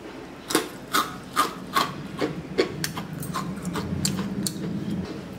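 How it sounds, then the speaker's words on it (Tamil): Someone bites into crispy mullu murukku, a fried Diwali snack. Loud, close crunches come one after another about every third of a second, then settle into softer, steady chewing. "இப்போ நான் அதை சாப்பிட்டு காட்டுறேன் எப்படி மொறுமொறுன்னு இருக்குதுன்னு பாருங்கள்."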